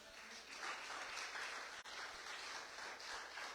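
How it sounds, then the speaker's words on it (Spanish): Church congregation applauding together, a steady, dense wash of clapping that holds for a few seconds with one brief dip midway. "Dele un aplauso al Señor, por favor."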